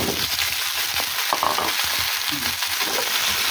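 Vegetables sizzle and fry in a pan with sautéed garlic and onion, a steady loud crackle with occasional stirring scrapes throughout, no talking.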